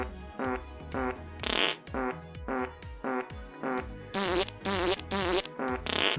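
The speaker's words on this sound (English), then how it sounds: "then you can right click on it to sit, and then it will say press F to fart" Repeated comic fart sound effects from a toilet in a Minecraft furniture mod, a rhythmic series of short buzzy bursts with several longer, harsher blasts near the end, loud and with no talking.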